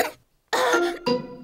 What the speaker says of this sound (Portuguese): Como eu pensei, a tosse do Pedro é contagiosa.